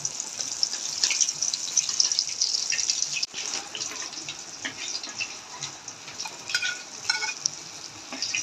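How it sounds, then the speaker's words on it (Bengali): Pieces of goldfish sizzle and crackle in hot oil as they are stirred, a steady frying hiss broken by scattered pops and light scraping, close and continuous. "এইভাবে আমি সবগুলো মাছ ভেজে নেব"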